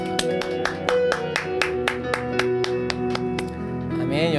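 A church congregation gives thankful applause, sharp rhythmic handclaps landing in a steady beat over sustained organ or keyboard chords.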